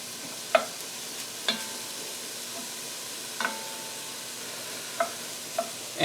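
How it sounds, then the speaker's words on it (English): Onion stirred in hot oil in a pan gives a soft, steady sizzle broken by several sharp scrapes and clinks of the utensil against the pan, fairly quiet and close, with no talking. "I'm just going to coat the onion with the oil and stir it around just a little."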